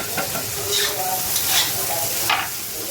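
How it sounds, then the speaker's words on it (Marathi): Onions frying in a pan are stirred repeatedly, a close crackling sizzle punctuated by several scraping spoon strokes, with no talk over it. "आता हे मिक्स करत राहायचं सारखं सारखं किती वेळ कांदा शिजेपर्यंत"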